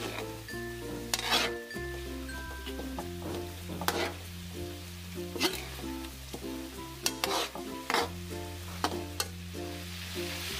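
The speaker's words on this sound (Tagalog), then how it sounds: "Haluin lang po natin ulit." Chicken feet adobo with bay leaves and pepper being stirred in a pan, soft sizzling under irregular scraping and clinking stirs, close, with a steady tonal background hum and no talking.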